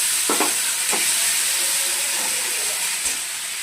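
A spice paste of turmeric, poppy seed and mustard fries in oil for a bottle gourd shukto, giving a close, steady sizzle and hiss. A few soft stirring scrapes break through near the start.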